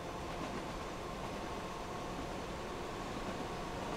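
Train running on a coastal route in the Transport Fever 2 game, heard as a steady, faint, even rumble with no distinct events.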